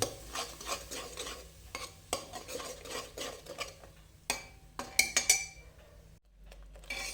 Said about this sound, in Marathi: ती पेस्ट चांगली या तुपाबरोबर भाजून घेऊ